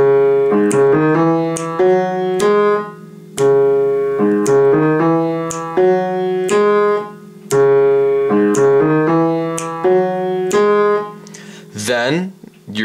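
Piano part from a song, played in rhythm as a repeating looped figure of steady notes with sustained harmonics, heard alone at moderate loudness, ending with a brief noisy touch.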